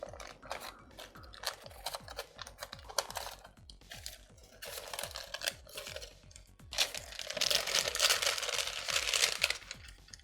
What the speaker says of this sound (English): Just peel down the edges.